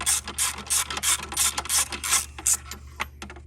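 A ratchet wrench loosens a spark plug on a Nissan Frontier, clicking in a steady run of repeated bursts with metallic pawl rattles, close and alone with no talk.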